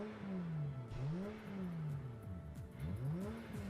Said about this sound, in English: I'll shut up so you can hear the car sounds.